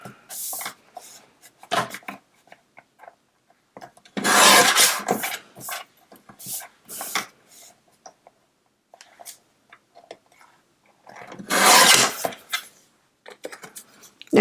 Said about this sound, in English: I'm going to trim off the edges here to make this a little skinnier.